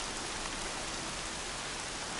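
Steady, even rain falls in a video game set in the world of Aloy, a dense continuous hiss with no talk over it.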